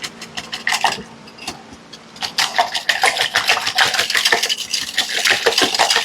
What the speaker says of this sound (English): I'm going to actually go ahead and get a whisk. I can break that sour cream up a little better.